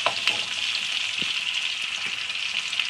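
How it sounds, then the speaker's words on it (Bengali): Poultry chicken pieces fry in a pan with a steady, close hiss and sizzle, with a few soft stirring knocks and no speech. "চিকেনটা একটু ফ্রাই করে রান্না করলে"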